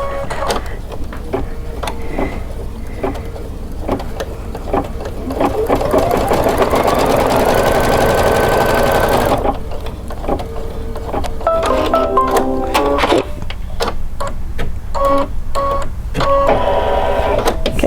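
A computerized embroidery machine stitches a quilting club project, with a steady rapid mechanical whir and needle chatter that pauses and restarts in short bursts, close and loud with no talking.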